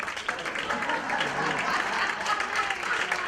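Steady applause from a crowd, many hands clapping continuously at a moderate distance with no pauses.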